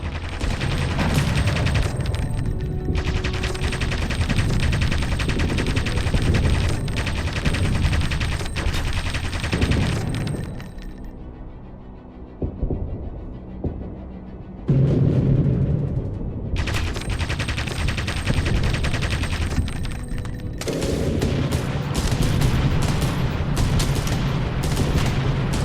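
Aircraft guns fire at an enemy ship in an Aviators WWII air-war game, with long loud stretches of rapid machine-gun fire and booming impacts broken by a quieter gap partway through.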